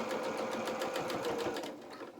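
A sewing machine runs steadily, stitching a reverse pass across the bottom front hem of a small doll jacket, a close continuous whirring hum with a fast rhythmic needle pulse that slows near the end.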